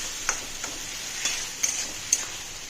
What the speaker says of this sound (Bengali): খুব ভালোভাবে নাড়াচাড়া করতে হবে, একদম জিনিসটা শুকনো শুকনো হয়ে যাবে।